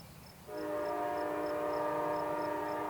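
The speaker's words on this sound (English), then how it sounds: "there was not much of a wait for the next freight train to come through" A freight train horn sounds alone, steady and sustained, over a low rumble. The rumble rises at the start and holds, with a faint regular ticking on top.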